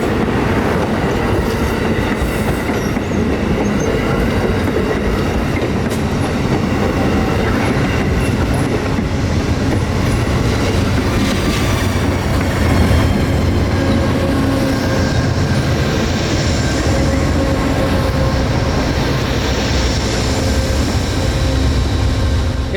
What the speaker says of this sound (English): Amtrak Silver Star number 91 backs his train through the downtown populace into Tampa Union Station